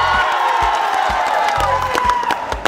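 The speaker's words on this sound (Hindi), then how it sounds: "तनी हाला करके ताली बजाओ।" A crowd at a Bhojpuri film premiere cheers, whoops and claps loudly on request, a dense wall of shouting and applause with sharp individual claps, heard close and continuous.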